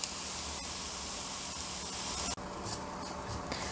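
Onions, ginger, green chilli and turmeric sautéing in a pan give a steady, loud sizzling hiss that runs without a break, shifting briefly partway through as the food is stirred.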